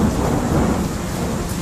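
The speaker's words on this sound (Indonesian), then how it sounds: "Meski petir terus menggelegar, si pria itu sama sekali tak mau beranjak." Thunderstorm with continuous low rumbling thunder and the wash of rain, loud and steady without a break.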